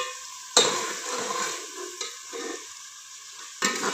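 Red chillies fry in hot oil with a steady broadband sizzle, broken by a sharp clatter of stirring near the start and again near the end.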